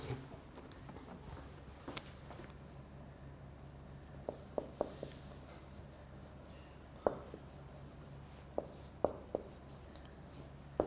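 Writing on a board during an English lecture, quiet scratching with sporadic sharp taps and clicks spread over several seconds against a low steady background hum, with no talk.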